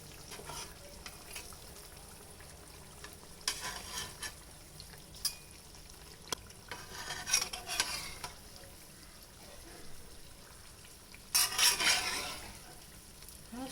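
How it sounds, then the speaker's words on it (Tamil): Athirasam, a sweet made from rice flour, fries in hot oil and is turned over, giving a steady soft sizzle with a few louder crackling surges as the pieces are flipped, and no talking. "இது கொஞ்சம் நல்லா கிறிஸ்பியாக ஃப்ரை ஆகட்டும்"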